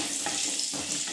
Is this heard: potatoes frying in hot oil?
yes